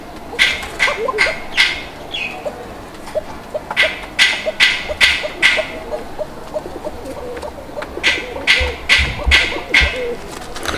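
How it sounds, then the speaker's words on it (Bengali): A pair of Koka pigeons coo repeatedly at close range, in bursts of several rhythmic calls separated by short pauses, over a quiet background. "অলরেডি কবুতরের জোড়াটার যে ডাক আছে আমি আপনাদেরকে ডাকটা দেখানোর চেষ্টা করছি।"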